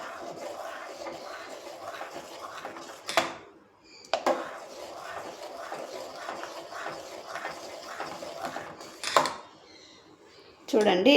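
A spoon stirs fruit custard and dissolving sugar in a pan, scraping softly with a few sharp clinks against the metal, while someone talks steadily throughout.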